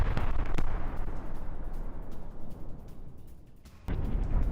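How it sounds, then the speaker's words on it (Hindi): Tank fire during an attack in Khan Younis, Gaza, heard as heavy booming blasts and rumble that fill the clip, with a sharp renewed burst near the end. "खान यूनिस में ये टैंक से अटैक किया गया"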